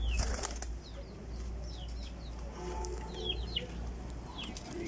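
Sialkoti pigeon wings flapping in short bursts with faint bird chirps over a steady outdoor background hum.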